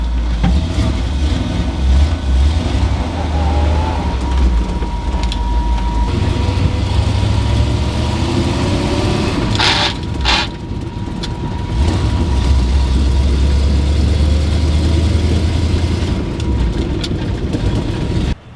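A 1978 Jeep engine, long left sitting, runs and idles with a loud, steady low rumble close by, its pitch dipping and rising briefly midway, with a few knocks and clatters over the drone.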